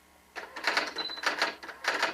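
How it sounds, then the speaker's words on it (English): One-finger typing on a typewriter: a few bursts of clacking keystrokes, with a brief ring partway through. "my one-finger typing"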